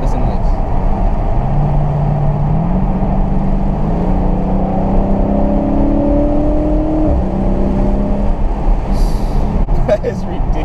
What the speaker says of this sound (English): I'm going to downshift it again so that you can hear that pretty exhaust note.